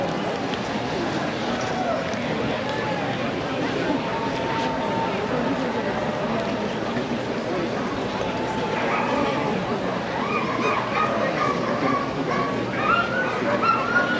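Sled dogs bark and yip at the Iditarod ceremonial start as a team moves up to the starting position, a dense, continuous mix of excited barking amid crowd noise, with an announcer talking over it.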